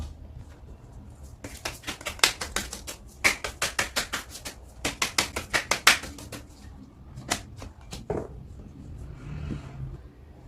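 Oracle cards being shuffled and handled, a run of quick crisp riffling snaps and flicks in close bursts, pausing briefly midway and ending with softer sliding card sounds.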